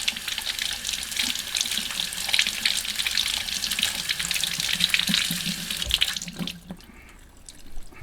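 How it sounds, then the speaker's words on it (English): Running tap water pours steadily over a nitro engine part, a bright continuous splashing that rinses soap away, then cuts off near the end leaving quiet drips. "So just run it under the water, squeeze it, and just make sure all the soap's out."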